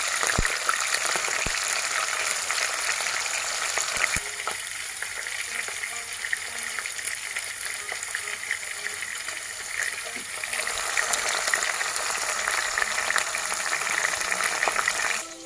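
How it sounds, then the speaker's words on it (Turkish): Peppers fry steadily in a hot pan with a constant crackling sizzle, and a few sharp clicks and taps of a utensil, while cooking an eggplant chicken dish. "Biberlerimizi de biraz kızarttıktan sonra soğanlarımızı atacağız."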